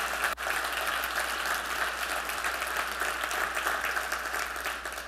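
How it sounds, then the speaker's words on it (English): Steady, dense applause from an audience greeting Lucy, a guest in the room, holding at an even level throughout with a brief dip near the start. "Let's give her a round of applause."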